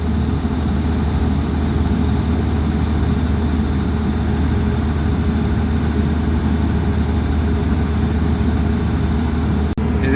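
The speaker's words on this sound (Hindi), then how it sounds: "मैंने इंजन की स्पीड बढ़ा दी है" A car engine runs steadily at raised speed during a coolant temperature sensor check, a loud, even, continuous hum heard up close with no talking throughout.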